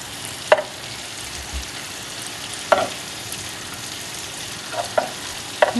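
Butter melts in a pan with a steady, close sizzle, broken by a few sharp clicks of a utensil against the pan.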